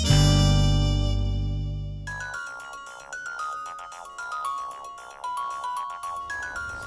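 A mobile phone ringtone rings in a home setting, opening with a swelling synth chord and then a bright repeating melody of plucked notes, fairly loud and alone.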